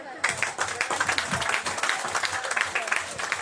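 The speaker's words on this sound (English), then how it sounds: "So that's a round of applause for Mr. President." A crowd at a public event in Guyana applauds for the President, producing dense, steady clapping throughout, with a voice or two mixed into the ovation.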